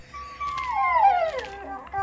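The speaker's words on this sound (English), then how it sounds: "There's two dogs right there, are you kidding me?" Dogs in the horror game Endless Nightmare 4: Prison, a single drawn-out howl sliding downward in pitch, close and clear over a quiet background, followed by a short yip.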